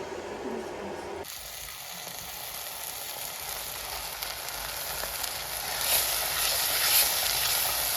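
Spinach sizzles and fries in a pan, a steady crackling hiss that swells slightly near the end, with a spoon stirring through it after a quieter opening moment.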